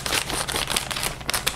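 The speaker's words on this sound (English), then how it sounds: "I've reached for a pair of scissors," Scissors snipping and crinkling open the plastic packaging of an Align G3-GH gimbal, a quick run of close, crisp cuts and rustles with no talk.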